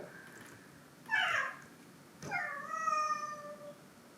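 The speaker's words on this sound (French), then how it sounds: "moi j'ai mon chat qui me gueule dessus" A house cat meows twice, each call clear and fairly close, with a short pause between them in an otherwise quiet indoor room.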